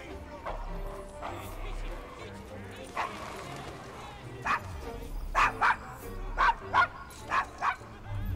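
A dog in Assassin's Creed Syndicate gives a string of short yips and barks in quick bursts near the end, mixed under a busy game background and voices talking.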